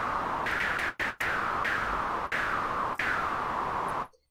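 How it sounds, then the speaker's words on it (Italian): White noise waveform from the LB302 synthesizer in LMMS plays as a loud, steady broadband hiss for about four seconds. It has a few brief dropouts and then stops abruptly, with no voices. "E poi abbiamo il rumore bianco."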